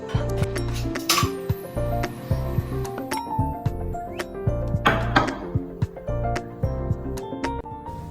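Washed dishes are put away in a home kitchen, a close series of sharp clinks and clatters of plates, pots and cutlery knocking together in an irregular rhythm, with no talk over them.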